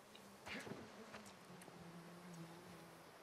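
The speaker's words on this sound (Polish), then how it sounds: "Oj, słyszę muchy." Flies buzzing in the video game The Last of Us Part II, a faint, wavering drone with a few brief louder passes near the start, set against quiet background tones.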